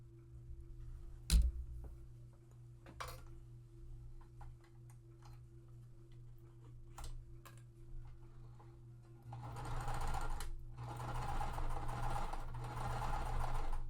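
A home sewing machine stitching a pieced quilt block runs in two steady, buzzing bursts near the end, after a quiet stretch of faint clicks and one sharp knock.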